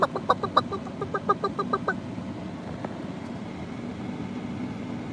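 A quick burst of chicken clucking plays as a sound effect, about eight rapid clucks in the first two seconds, then fading into steady low background rumble.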